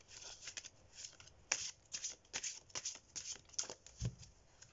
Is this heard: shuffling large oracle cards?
yes